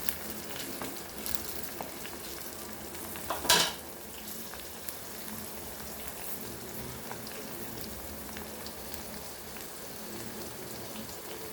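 Food frying and being stirred in a pan for a curry, a steady crackling sizzle throughout with one brief louder scrape of stirring near the start.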